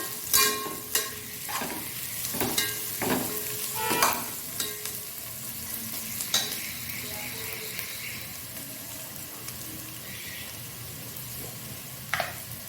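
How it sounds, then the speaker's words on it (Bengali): Onions frying in hot oil for an egg biryani, sizzling steadily while a spoon or spatula stirs and scrapes the pan in repeated clanks and scrapes, close and alone without talk. "পেঁয়াজটা হালকা ব্রাউন হয়ে এসছে।"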